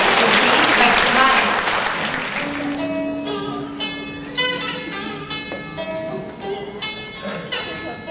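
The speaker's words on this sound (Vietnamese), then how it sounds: "Một tràng pháo tay thật lớn cho" Loud applause for the performer Bạch Mai, dense at first and then thinning into scattered claps as tonal instrumental notes come in underneath.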